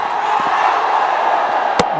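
Steady broad murmur of a cricket stadium crowd during a Ranji Trophy match between Delhi and Railways, fairly distant and constant, with a single sharp knock near the end.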